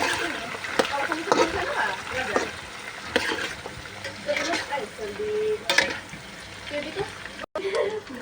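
Dried fish and garlic fry in hot oil, a loud, close, continuous sizzle with splattering and stirring scrapes that rises and falls, while a person talks intermittently over the cooking.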